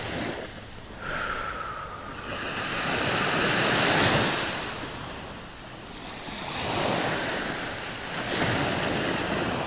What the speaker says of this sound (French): Et par ces vagues.